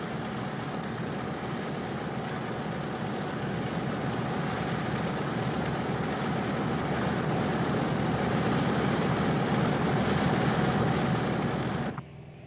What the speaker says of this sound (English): Here the aircraft is being shown taxiing out to test its landing gear by the pilot Don Likens.